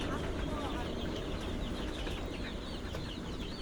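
Young chickens, 22 days old and weakened after their second Ranikhet vaccine dose, cluck faintly in a poultry shed over a steady background hiss, while a person talks nearby.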